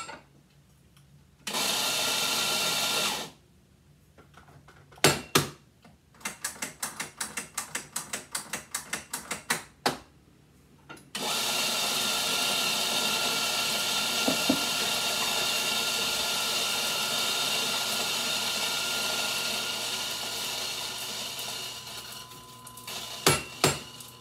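A Nuova Simonelli MDX commercial espresso grinder grinds coffee in loud whirring bursts that start and stop, separated by quick rhythmic ratcheting clicks and a few clinks.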